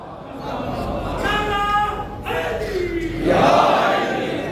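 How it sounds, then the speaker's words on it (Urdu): An audience at a religious majlis breaks into loud collective chanting of a naara slogan, voices rising in swells with a speaker's voice among them, building to a louder surge near the end. "اب آپ نے مناسب نعرہ لگایا، یہ نعرے کا مناسب موقع ہے"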